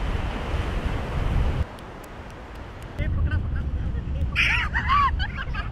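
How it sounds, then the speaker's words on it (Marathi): Sea waves wash onto a Konkan beach in Maharashtra as a broad, rushing roar that briefly drops, then swells again, with faint distant voices and a few bird chirps near the end. "वाडीतून चालत गेल्यावर थेट समुद्र किनारा."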